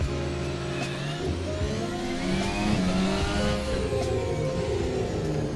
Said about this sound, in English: The engine isn't just a faint noise.